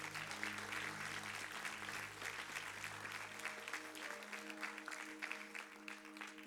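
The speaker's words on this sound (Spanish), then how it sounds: "Dale ese aplauso fuerte a Él." Congregation applauding in a church service: sustained, full clapping from many hands at a steady level, with low sustained tones underneath.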